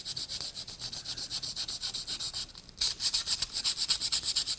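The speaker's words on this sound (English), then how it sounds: "run your sandpaper over the waxed surface here" Sandpaper rubbed back and forth over the waxed finish of an axe handle during a repair, a steady rhythmic scratching with repeated strokes that grows louder and brisker partway through, heard alone.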